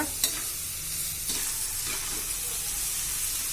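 Onion fries in oil for upma with a steady close sizzle, broken by a few sharp clinks and scrapes of stirring in the pan.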